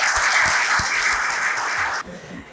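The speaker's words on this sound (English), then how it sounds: "Let us have a huge round of applause." A large audience at an architecture and interior design event claps loudly and steadily, then the applause cuts off abruptly near the end, leaving a quieter room.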